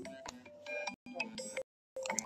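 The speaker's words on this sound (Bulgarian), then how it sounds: "алармата звънна" A phone alarm goes off as a quiet electronic melody of shifting tones, played in short phrases separated by brief silences.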